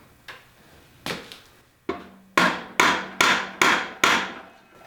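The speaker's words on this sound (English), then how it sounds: "Gently tap the axle through." Rubber mallet tapping an axle through an e-bike front wheel: a sequence of about eight sharp, close knocks, sparse at first and then evenly spaced and harder, with quiet between strikes.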